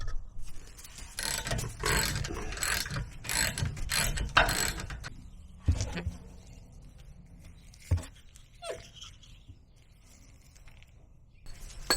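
A ratchet with a 7mm hex bit socket works the brake caliper bolts on a BMW E46, giving bursts of rapid clicking close up, then sparser clinks and metallic knocks with quieter gaps.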